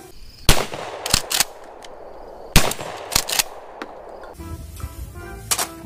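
Toy plastic single-barrel shotgun firing: sharp clicking pops, two loud ones separated by a few seconds plus several smaller snaps, fairly close and alone.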